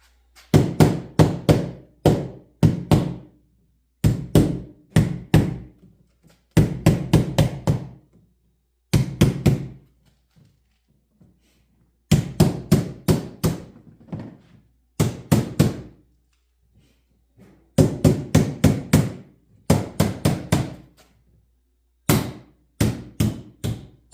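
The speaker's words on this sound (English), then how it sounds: "you just kind of tap it into place with your hammer" A hammer taps parts of a quail grow-out cage into place, with clusters of three to five quick sharp metallic knocks separated by short pauses, loud and close, with no talking.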